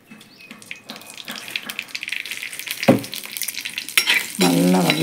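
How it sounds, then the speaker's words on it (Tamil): Spices sautéing in hot oil for kudal kulambu, a crackling sizzle with stirring scrapes that builds in loudness toward the end, close by and heard alone. "இதை ஃபுல்லாக நல்லா வதக்கிக்கிறணும்."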